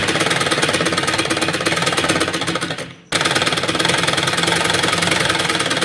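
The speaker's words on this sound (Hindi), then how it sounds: "अब हम यहाँ से एकदम बारीक से इसको इस तरह फिनिशिंग के साथ सिलाई लगा लेंगे।" A sewing machine stitching a fine finishing seam on a shirt, with a steady rapid mechanical chatter that stops briefly mid-way and then resumes at the same pace.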